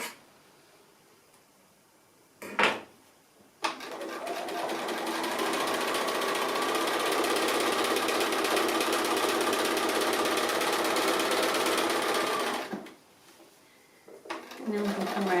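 A sewing machine stitches an appliqué design, running steadily for about nine seconds after a short burst, its whirring motor loud and close.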